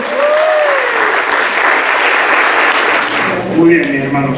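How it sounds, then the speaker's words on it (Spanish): A church congregation at a Sunday service bursts into sustained applause, loud and continuous, with a few voices and shouts mixed in. "Un aplauso para el Señor"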